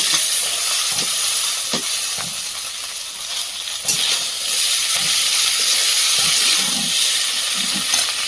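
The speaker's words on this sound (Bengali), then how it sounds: "কেটে রাখা সবজিগুলো দিয়ে দেবো।" Chopped vegetables frying in a small amount of oil in a home kitchen give a steady hiss and sizzle with occasional soft stirring knocks, close and continuous, with no talk.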